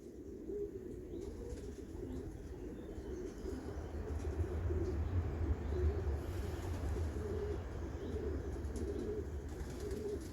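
Pigeon cooing at a Belgian loft of original Karel Meulemans birds from Arendonk, soft repeated coos over a steady low rumble of background noise, with a brief hint of wing flapping, no voices.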